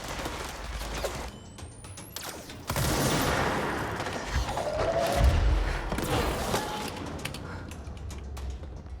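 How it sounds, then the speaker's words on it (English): Gunfire from enemies in the video game Control, AWE expansion: a dense burst of sustained shooting and impacts, moderately loud and continuous, with no talking. "The hell are they shooting at?"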